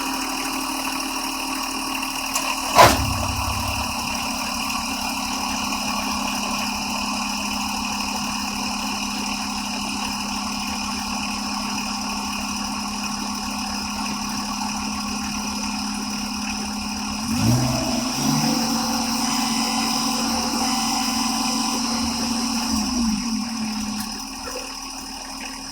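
A Kubota BX23 compact tractor engine runs steadily for a long stretch, a loud close drone that shifts pitch partway through as the revs rise, then holds at higher RPM.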